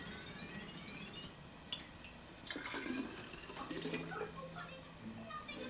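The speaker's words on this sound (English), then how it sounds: "I'm going to start filling these quart jars to an inch head space and get them processing" Homemade broth pouring into quart jars, a soft running trickle that swells into louder splashing and gurgling partway through, close by with no voices.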